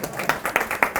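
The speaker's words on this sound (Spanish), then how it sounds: "Un aplauso, por favor." Scattered applause from a class audience at an email marketing lesson, heard as a few sharp, evenly spaced claps that stand out over a light, sparse patter of hands.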